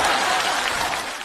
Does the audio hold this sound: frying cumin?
no